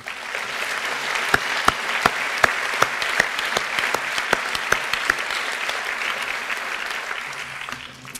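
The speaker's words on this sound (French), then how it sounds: "Je pense qu'on peut de nouveau les applaudir pour vous avoir accompagnés" A hall audience at a doctoral diploma ceremony applauds steadily, many hands clapping in a sustained wash with a few louder claps standing out near the front, fading at the very end.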